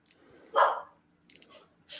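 A dog gives a single short, muffled bark, followed by soft snuffling and a second faint yap a moment later, all fairly quiet and close by indoors.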